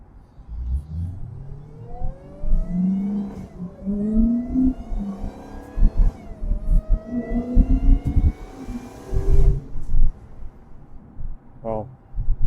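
A 707 hp supercharged Dodge Hellcat accelerates hard, its big-displacement engine note climbing repeatedly through rising revs with brief dips between pulls, loud and close throughout.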